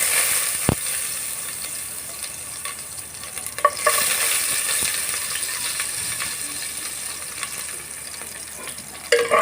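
Cumin seeds and chopped garlic hit hot oil, giving a steady close sizzle with a few light clicks and a brief louder burst of crackle, with no talking.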